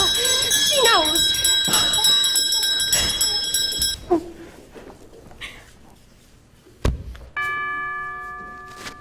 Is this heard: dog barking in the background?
no